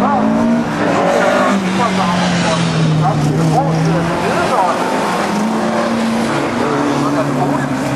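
Race cars engines drone and shift pitch in long sweeping tones as they run a track at Padborg Park, steady and fairly loud throughout, with a commentator talking over the noise.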